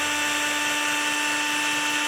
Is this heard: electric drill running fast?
yes